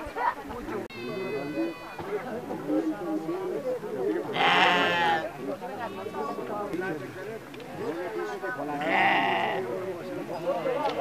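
Sheep bleat inside a sheep shed, several loud wavering calls rising out of the flock's murmur, with people talking throughout underneath them.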